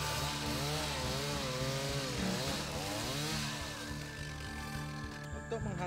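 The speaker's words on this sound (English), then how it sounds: "a piece of wood this size has to be sawn and divided into several smaller pieces" A powered saw cuts through a large block of wood. Its loud, droning motor rises and falls in pitch as the blade works through the piece, running continuously with little pause.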